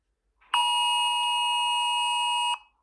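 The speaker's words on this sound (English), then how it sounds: "You get an Amber Alert on your phone, you know, that's what you hear." An emergency alert tone of the kind sent as an Amber Alert on a phone sounds alone: a loud, steady two-tone electronic blare held for about two seconds, then cut off.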